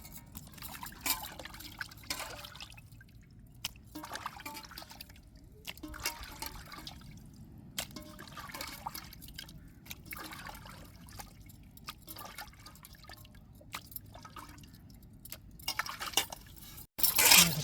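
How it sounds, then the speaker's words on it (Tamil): Fish is scrubbed by hand with rock salt and water: soft, irregular splashing, dripping and gritty rubbing in close, quiet bursts, ending with a louder splash. "நம்ம உப்புக்கல்லை போட்டு நல்லா உரசி கழுவிடணுங்க"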